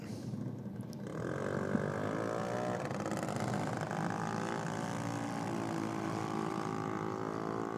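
A junior dragster's small engine drones at the drag strip start line, rising in pitch and then holding a steady buzzing tone, close and loud, with a slight misfire in the running.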